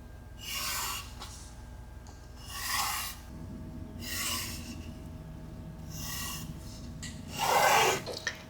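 Paper trimmed around a template, cutting double-sided 12x12 patterned paper for waterfall booklets, heard as a series of soft rasping cutting strokes repeating roughly every second or two, quiet and close with no talk.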